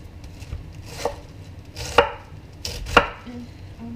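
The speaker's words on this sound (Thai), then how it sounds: "หั่นสักหน่อยนึง" Cabbage is chopped with a knife on a board in a home kitchen, a few sharp, spaced cuts landing close by with soft rustling between them and no talking.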